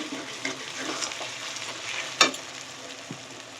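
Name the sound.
spice paste frying and stirred for chicken curry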